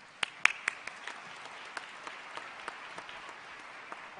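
Audience applauding at the close of a presidential lecture session at a 2017 MDS event, steady clapping from a hall crowd with a few sharper claps standing out near the start, no talk over it.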